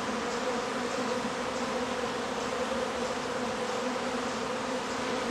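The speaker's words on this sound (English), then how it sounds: "a lot of it is simply the way bees fly in and out of this hive." Bees fly in and out of a backyard beehive, a continuous, even buzzing drone heard at a moderate distance with no voices.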